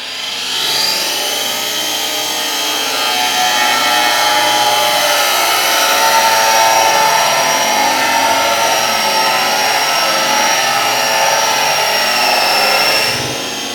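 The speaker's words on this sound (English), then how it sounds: "I'm now going to do a cut without any form of extraction." A power saw cuts through material with no dust extraction, a steady, loud, continuous whine and rasp held for nearly the whole stretch before stopping abruptly at the end.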